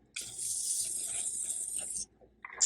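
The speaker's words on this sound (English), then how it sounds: "let's go ahead and give it a quick spray" A quiet, steady hiss of a spray bottle misting a houseplant for about two seconds, followed by a brief faint extra spritz.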